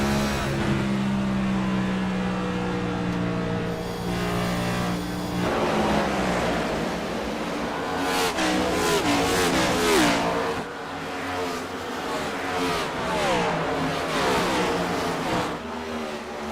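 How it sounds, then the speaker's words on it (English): Race car engines in a Dover oval racing game, a loud continuous roar with rising and falling revs as the throttle is worked mid-corner, other cars sweeping past in overlapping tones. "Stange working the throttle quite a bit mid-corner there, trying to get that race car to turn."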